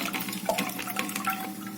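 Soaked lentils poured into a pot of hot water while cooking dal, a close, steady watery splashing and trickling for under two seconds.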